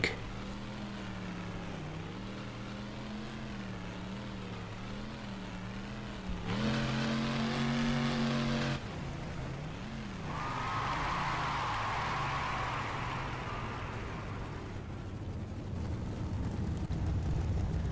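A monster truck engine idles and revs in BeamNG Drive, a steady droning rumble that swells into a louder, higher rev for a couple of seconds before settling back to a low hum.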